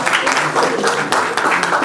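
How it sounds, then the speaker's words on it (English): A crowd claps in a brief burst of applause, dense and fairly loud, with no one speaking. "put your hands together to give a big round of applause to Dr. Bundela."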